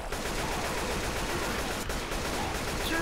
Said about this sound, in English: I'm shooting the tank first.